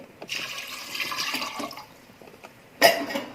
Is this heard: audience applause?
no